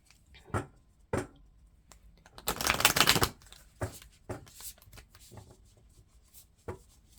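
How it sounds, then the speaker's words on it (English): A deck of oracle cards is shuffled up close, with a dense riffling burst lasting about a second, framed by scattered soft taps and card handling before and after. "So give them a couple shuffles, and I'll pull one for you."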